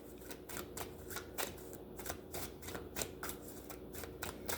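Tarot cards shuffled by hand in a quick, regular riffle of crisp papery slaps and flutters, close and fairly quiet, repeating steadily with no talking.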